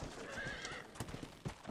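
Horse in the video game Red Dead Redemption: Undead Nightmare gives a clear whinnying neigh over a steady clip-clop of hooves, followed by a couple of sharper hoof thuds near the end, close and moderately loud.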